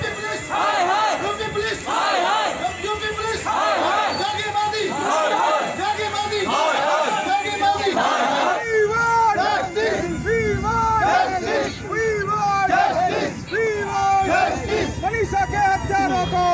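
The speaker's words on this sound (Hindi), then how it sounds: "लगातार नारे लग रहे हैं" A protest crowd chanting slogans in unison, loud rhythmic repeated shouts from many voices with crowd noise between the phrases, sustained throughout.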